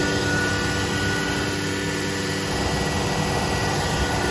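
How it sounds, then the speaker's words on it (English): A Becker VTLF 250 vacuum pump on a Techno LCX 59120 CNC router runs deadheaded with little airflow, giving a steady, loud, unbroken mechanical roar and hum that stays constant throughout. "we're deadheading this pump, so there's not a lot of airflow"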